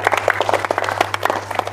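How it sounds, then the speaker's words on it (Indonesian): A group of students at a martial arts class gives a short round of applause, a loose patter of claps close by with a faint hum beneath. "bagus. Tepuk tangan boleh."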